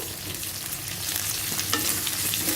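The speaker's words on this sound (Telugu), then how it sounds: "వేసుకొని ఆనియన్స్ని ఒక రెండు నిమిషాలు ఫ్రై చేసుకోవాలి" Sliced onions with green chillies and curry leaves fry in a pan, making a constant loud sizzle up close, with light stirring scrapes toward the end and no voices.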